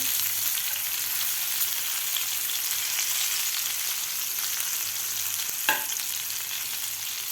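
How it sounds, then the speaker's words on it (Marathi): Bitter gourd slices fry in a pan with a steady, hissing sizzle, and a single short scrape is heard as a piece is flipped. "आता आपण कारले पलटी करून घेऊया"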